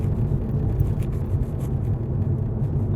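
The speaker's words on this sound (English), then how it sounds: "you guys could hear, right? The exhaust noises you get." Low steady exhaust rumble from a 2015 Mercedes-Benz AMG C63S under way, a deep continuous drone heard from inside the cabin with no voices.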